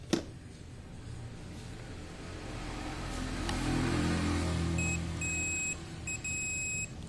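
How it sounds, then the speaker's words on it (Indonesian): A multimeter continuity buzzer sounds a high electronic beeping tone in short repeated pulses, then longer steady beeps, close by, over a low background hum, while testing wiring on a Honda Vario 150 motorcycle. "Coba kita nanti tes pakai multitester, pakai buzzer saja ya teman-teman."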